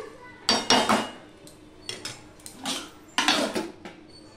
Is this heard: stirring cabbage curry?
yes